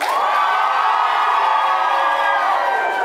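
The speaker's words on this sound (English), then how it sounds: "we let them know that by cheering as loud as you can" A live audience at a main stage show cheers and shouts at full volume, a dense, steady roar of many voices sustained throughout.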